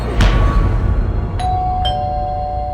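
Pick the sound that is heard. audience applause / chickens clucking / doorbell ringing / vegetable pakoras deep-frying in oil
doorbell ringing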